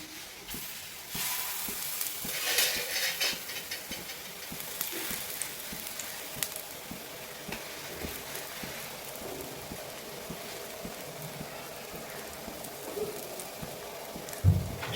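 Steady crackling sizzle of pancake batter made with milk, poured onto a hot, oiled griddle. The hiss is close and continuous, with small pops and no talking.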